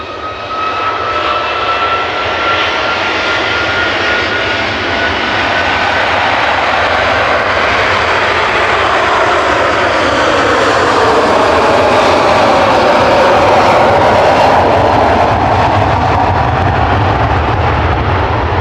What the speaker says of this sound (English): Heading back to Atlanta, this is Virgin Flight 109, operated by